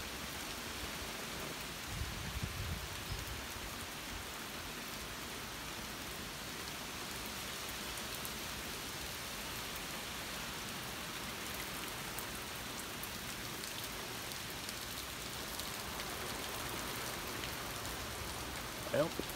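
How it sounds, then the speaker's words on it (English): Steady rain in Des Moines, Iowa hisses evenly throughout, a soft continuous patter on surfaces with no clear pauses. "this could be some little log of the rain in Iowa, specifically Des Moines"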